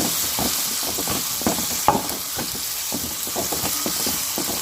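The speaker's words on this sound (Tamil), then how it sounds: "இப்போ தக்காளி வெங்காயம் நல்லா வதங்கிட்டுருக்கு" Tomatoes and onions frying in a pan for an anchovy fish curry, giving a steady sizzling hiss with soft crackles and stirring bumps throughout, no voices.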